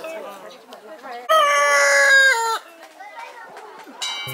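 A rooster on a farm in a park on Jeju crows once, a loud drawn-out call lasting about a second, with fainter birds and background chatter around it.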